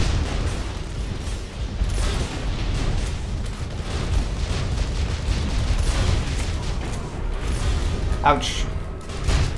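Airstrike explosions rumble and boom in Tribes Ascend, a dense continuous low roar of blasts with a sharper burst near the end, while a player cries out in pain.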